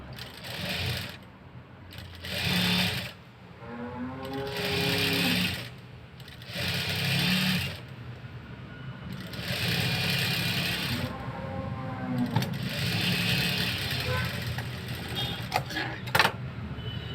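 A sewing machine stitching piping onto a blouse, running in repeated short bursts of rapid whirring separated by brief pauses, close and fairly loud.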